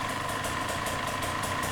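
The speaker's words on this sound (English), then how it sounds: "Idling is a little bit iffy right now." A KTM dirt bike engine idles steadily and somewhat roughly with a fast, slightly uneven pulsing putter, close by and continuous without any voices.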